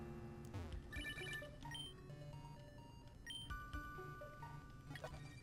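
Phone call ringtone in Pokémon Emerald, a run of bright, chiming electronic tones that repeat in short bursts and sit clearly over quiet game background, with no talking.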